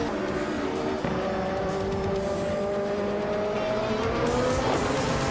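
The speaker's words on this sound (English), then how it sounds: "Hope you're ready to enjoy some exciting AI car races today." AI-driven cars racing in a video game, engines droning steadily with rising and falling pitch and a brief tire squeal, loud and continuous, with no talk over it.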